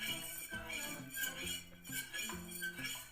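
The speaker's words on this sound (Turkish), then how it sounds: "sonra bunları güzelce karıştırıyoruz" A spoon clinks and scrapes against a container while stirring a mixture for a why-is-the-sky-blue experiment, with repeated light metallic taps throughout and a faint tonal hum underneath.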